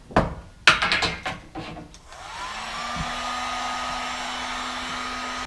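Several clattering knocks of handling a length of gray Schedule 80 PVC pipe, then a heat gun switches on and blows a steady loud whooshing whine with a constant hum, close by.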